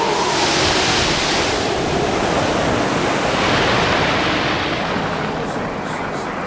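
Stormy North Atlantic seas battering around a ship, a loud continuous roar of crashing waves and wind, steady and close with no breaks and no voices.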